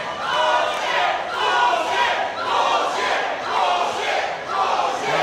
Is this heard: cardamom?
no